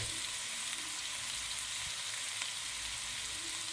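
Chicken mince and added carrots fry in a pan for pizza, giving a soft, even, continuous sizzle at low volume with no talking.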